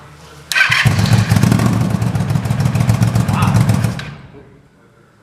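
A Yamaha G1 golf cart's gas engine runs with no mufflers, a loud, raw, rapid staccato bark close by for a few seconds before dying away, with a brief exclamation from someone nearby.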